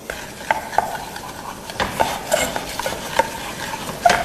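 A wooden spatula keeps stirring a roux in a pot as it browns for a brown gravy sauce, with soft scraping and light sizzling and occasional faint knocks against the pot.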